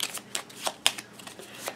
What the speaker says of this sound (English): then we'd shuffle up all the other cards